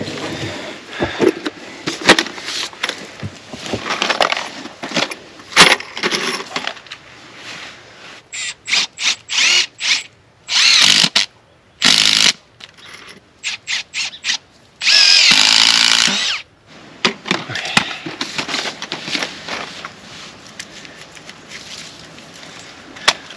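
A power driver sinks big screws into wood while a staircase down to a lake is built outdoors, with several sharp whirring bursts, two of them long and loud, between scattered clatter and handling noise.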